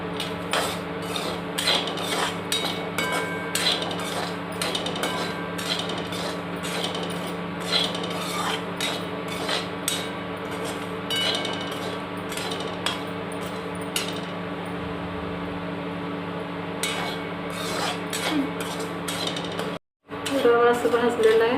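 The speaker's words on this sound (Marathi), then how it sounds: "प्रथम रव्याला थोडंसं भाजून घ्या. असं गुलाबी कलर येईपर्यंत भाजून घ्यायचं आहे." Semolina (rava) dry-roasting in a pan while being stirred, a continuous scraping and rasping of a spoon against the metal with steady rhythmic strokes, over a constant background hum.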